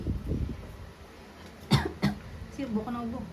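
Two sharp coughs in quick succession mid-clip, close to the mic, followed by someone talking; low murmuring voice at the start.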